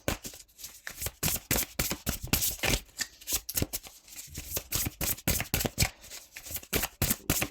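Tarot cards are shuffled by hand, a rapid run of crisp riffling bursts in an uneven rhythm, close and clear with no talking.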